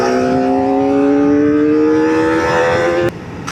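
A Kawasaki ZX4R SE four-cylinder motorcycle engine revs up in one loud, rising high-pitched wail, then cuts off sharply, leaving a brief lull and a short burst of wind noise.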